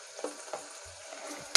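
Coriander powder and garam masala fry in a pan for potato biryani, giving a quiet, brief sizzle with a few soft stirring scrapes and a sharp knock at the end.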